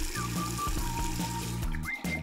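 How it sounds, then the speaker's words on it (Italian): Water runs and splashes as it fills a small mini pool, a steady close pouring and trickling sound that continues without break under a light musical backdrop. "Dobbiamo solo riempirla d'acqua."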